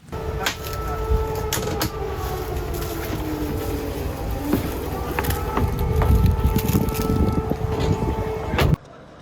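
A medical evacuation train at Lviv railway station, a rumbling, clattering rail sound with squeals and metallic clanks over a noisy station background, loud and close, ending abruptly.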